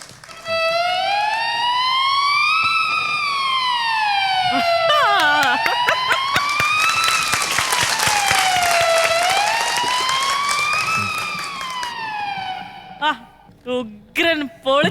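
Violin and flute imitate a fire engine siren during a fusion band stage show, with slow, sweeping rises and falls in pitch over about twelve seconds and a noisy crowd wash in the middle. It ends with short bursts of talk.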